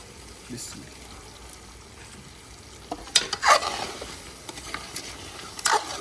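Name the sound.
tomatoes with black pepper, salt and chili cooking in a karahi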